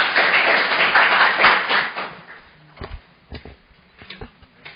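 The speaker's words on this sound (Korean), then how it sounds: "힘찬 박수로 맞이해 주십시오." Applause from a conference audience welcoming a business council chairman to speak at a Mount Kumgang tourism seminar, a dense burst of clapping for about two seconds that fades into a few scattered taps and thuds.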